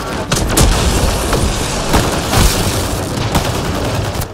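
Loud, rapid gunfire from the sci-fi action game Mass Effect: Andromeda, a steady stream of shots with several heavier bursts standing out in a noisy firefight.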